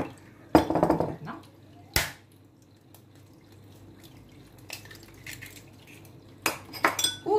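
Spoon mixing green olive tajine ingredients in a dish, a few separate bursts of clinking and scraping against the dish with quiet gaps between them.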